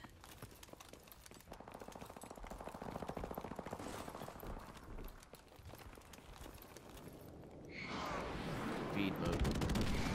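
Gunfire in the shooter Call of Duty: Modern Warfare Remastered, a dense stream of rapid shots and bursts running throughout and growing louder near the end, mixed with game sounds.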